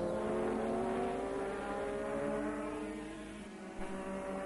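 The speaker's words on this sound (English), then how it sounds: "Alboreto we're looking at now, the World Championship leader in the Ferrari" Formula One race cars with a Ferrari among them screaming around the track, a loud sustained high-pitched engine whine with layered harmonic tones that shift slightly as cars pass, crowd and track ambience beneath.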